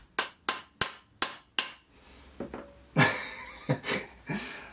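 Hammer striking a part into a gravel bike suspension fork, five sharp metallic blows in a steady rhythm, then softer knocks and scraping handling noises, close and clear without talk.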